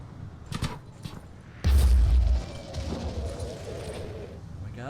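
A grenade explosion in the tactical video game Phoenix Point lands as a sudden loud, deep boom that rumbles for about half a second, preceded by brief sharp clicks and followed by faint game ambience.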